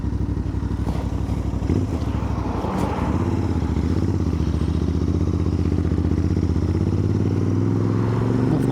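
A Royal Enfield Interceptor 650 motorcycle rides on a wet road in the rain in the UK, its steady engine drone loud and continuous throughout, with a brief clattering thump near the start.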